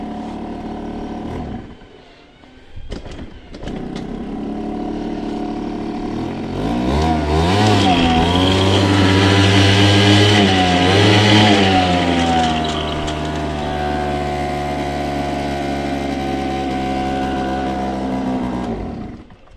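A motorcycle engine runs close by with some fuel-delivery trouble, starting from a sputter, then revving up loudly for several seconds before settling back to a steady idle.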